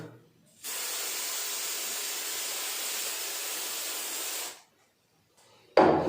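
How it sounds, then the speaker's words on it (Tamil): One long, steady hiss from an aerosol adhesive spray can close by, sprayed on the corner of an acoustic foam panel, lasting several seconds, then silence before a brief bump at the end. "கார்னரில் இன்னொரு வாட்டி ஸ்ப்ரே பண்ணுறேன்."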